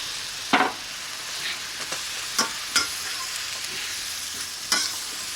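Turkey breast pieces stir-frying in a wok over a rocket stove, with a steady sizzle and several sharp clanks and scrapes of the utensil tossing the meat.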